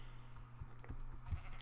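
Sheep bleating on a farm in Minecraft, a few short bleats heard close by over a faint low hum, with no talking.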